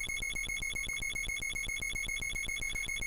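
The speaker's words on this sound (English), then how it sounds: "we get to hear 50 beeps" Rapid electronic beeps tally the score in the Castlevania video game, about five per second in an even, unbroken run at moderate volume, with no voices.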